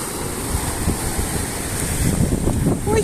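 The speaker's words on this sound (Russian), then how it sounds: "Ой, море прямо чуть не подошло ко мне." Sea of Azov waves wash onto the shore at Mariupol on a morning beach, a steady close rush of surf that swells slightly toward the end, heavily mixed with wind buffeting the microphone.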